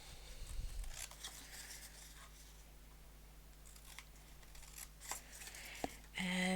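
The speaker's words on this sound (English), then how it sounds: "This card has these little boxes, so I can cut them out." Scissors snip out small boxes from a paper 4x6 card, producing quiet, sparse crisp cuts and crunches against a faint steady background hum, with no talking.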